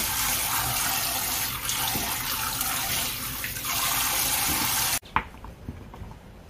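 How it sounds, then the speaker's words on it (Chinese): Melon seedlings being rinsed under a steadily running kitchen tap, a loud continuous splash of water that cuts off abruptly near the end, followed by a few faint handling clinks. "三次，漂洗一下佢。"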